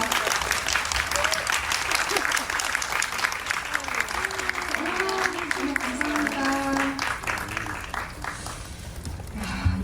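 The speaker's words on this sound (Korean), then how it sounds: "여러분 박수로 환영해 주세요" Audience applause welcomes director Ko Hee-young and painter Eva Armisén at an event for the film Legend of the Water Flower: continuous, fairly close crowd clapping throughout, with voices talking and calling out over it.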